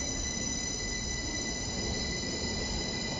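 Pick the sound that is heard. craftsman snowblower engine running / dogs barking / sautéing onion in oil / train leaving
train leaving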